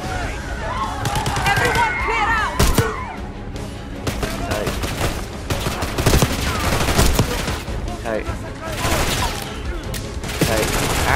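Gunfire in the Call of Duty Black Ops 6 campaign, with bursts of automatic fire and scattered single shots and impacts over game ambience, dense and loud, with voices speaking in between.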